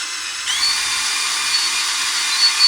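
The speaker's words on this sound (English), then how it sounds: "Gonna hope this drill bit does not snap." A power drill whines steadily at high pitch, starting abruptly and grinding on continuously as the bit bores through a knife handle, loud and close.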